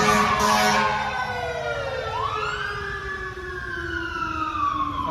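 A fire engine siren wails and sweeps past, its pitch sliding down as it moves by, loud and steady over low traffic rumble.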